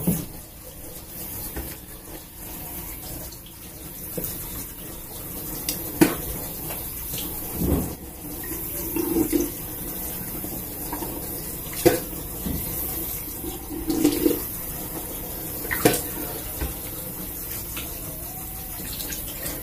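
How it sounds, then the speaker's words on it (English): Tap water running steadily in a bathroom sink while a toothbrush is rinsed, with occasional splashes and knocks against the basin, close and fairly quiet. "I rinse my toothbrush off and I do it with no toothpaste just so I can like rinse my teeth off with nothing, just water."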